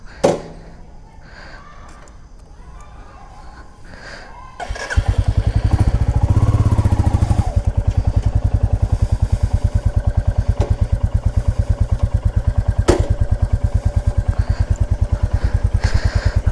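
2023 Royal Enfield Classic 350 E20 in chrome red, a single-cylinder motorcycle, starting after a few quiet clicks and settling into a loud, steady, evenly thumping idle up close.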